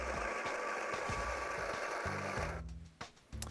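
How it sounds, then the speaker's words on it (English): A Breville Dose Control Pro coffee grinder grinds coffee beans into a portafilter in its cradle: a loud, steady mechanical whir that stops near the end, followed by a couple of short bursts. "insert it into our grinding cradle and press the grinder to start"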